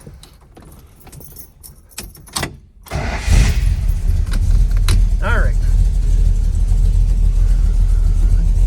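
Keys jangle near a 1971 Dodge Challenger R/T tribute with a 440 Magnum V8 and four-speed, then the engine cranks and fires into a loud, steady, deep idle that fills the rest of the clip, with a brief spoken word early on.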